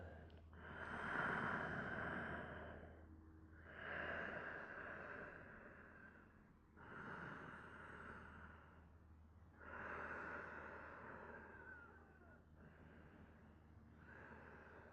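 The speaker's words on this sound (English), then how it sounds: "slow little inhales, and exhale" Slow, steady breaths during a yoga class, four or five long soft exhales in a relaxed rhythm with short pauses between, close and quiet with no talking.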